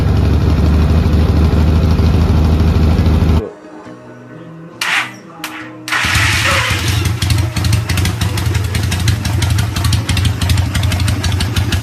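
A Yamaha SS1 classic motorcycle with a vintage single-cylinder engine runs loud and close, pausing briefly with a couple of short bursts before settling into a steady, rumbling idle.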